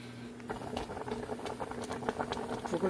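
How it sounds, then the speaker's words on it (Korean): A pot of Korean doenjang soup made with soybean flour and jichingae greens boils on the stove, giving off steady close bubbling and popping with a low hum underneath and no talk. "지금 이렇게 보글보글 이제 끓어나고 있죠."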